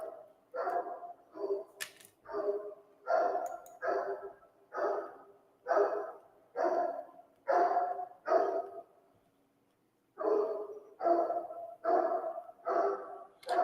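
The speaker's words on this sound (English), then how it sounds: "And my apologies if you guys can hear some barking dog." A dog barks repeatedly in steady bursts of one or two barks, fairly near and loud, pausing briefly near the middle before resuming, with no talking over it.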